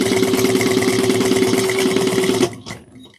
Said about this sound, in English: I'm going to start back stitch to 3/8 of an inch all the way around.